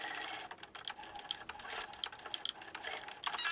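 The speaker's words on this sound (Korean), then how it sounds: "겉감과 안감을 포갠 부분을 노루발 간격으로 재봉해줍니다." A sewing machine stitches layered outer and lining fabric of a pouch at presser-foot width, a rapid close mechanical clatter running throughout at moderate level.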